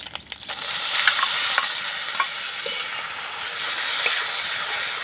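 Moong dal stir-fries in a pan with ginger, green chilli, turmeric and salt, making a continuous moderate sizzle broken by soft stirring scrapes and small clicks.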